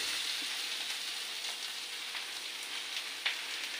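Shredded cabbage goes into a hot pan of fried fish, setting off a steady, bright sizzle and crackle that holds evenly throughout with no talking.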